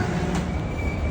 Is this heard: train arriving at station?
yes